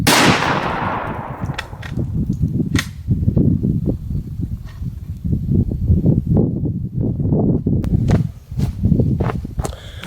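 A single loud rifle shot from an 8mm Mauser firing a steel core bullet at a target about 10 yards away cracks at the start and decays quickly, followed by steady low outdoor rumble and scattered faint clicks.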